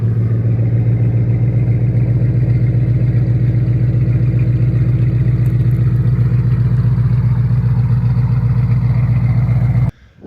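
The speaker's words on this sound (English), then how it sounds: "Flowmaster Outlaw exhaust. Freaking, these things sound so good." A Shelby GT500 with a Flowmaster Outlaw exhaust burbles at idle, a loud, deep, lopey rumble pulsing steadily before cutting off abruptly.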